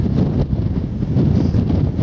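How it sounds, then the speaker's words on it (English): Strong wind buffets the microphone in continuous low roaring gusts on a walk near Church Stretton, England, with no voices. "And as you can hear, pretty windy."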